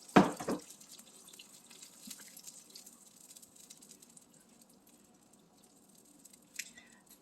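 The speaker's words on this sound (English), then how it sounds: "I'm going to add about half a cup of water" A short burst of water pouring into a pan at the start, then quiet dripping and faint sizzling that fade, with another brief splash near the end.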